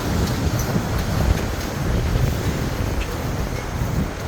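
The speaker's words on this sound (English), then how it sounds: "it's a little windy up here" Wind on the rooftop of the Marriott Cancun all-inclusive resort buffets the microphone with loud, steady low roaring gusts and a constant rushing hiss. No voices are heard.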